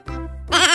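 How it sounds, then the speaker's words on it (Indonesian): A baby cries in the Roblox game Babby Bobby's Daycare with a single short, loud wail that breaks into a higher, wavering cry. "Bayinya nangis, guys."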